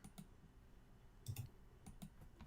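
Computer keyboard typing and mouse clicks at a desk, a few quiet taps and clustered clicks spread unevenly over a couple of seconds, close and soft with no talking.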